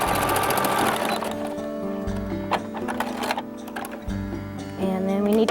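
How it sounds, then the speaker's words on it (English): A sewing machine runs in steady bursts while stitching straight across the bottom seam of a towel, its rapid needle chatter close and dominant, pausing briefly midway before starting up again. "We're going to go back and approximately a couple inches from the point, and we're going to sew that straight across."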